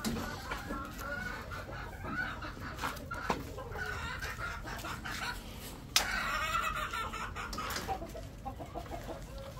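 Desi hens cluck and squawk in a coop, a busy, close chorus of irregular clucks with occasional sharper cries and a bump of handling noise midway.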